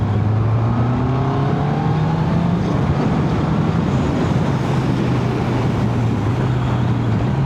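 A 2025 Honda CB650R E-Clutch motorcycle accelerates hard in third gear, its engine note climbing steadily in pitch. Heavy wind rush runs underneath throughout, and there is no talking.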